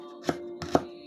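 Knife chopping fresh ginger on a cutting board, two distinct chops about half a second apart, close and fairly crisp over a low steady hum.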